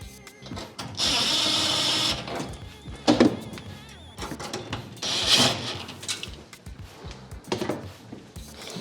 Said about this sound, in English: now we can add our 2 screws back in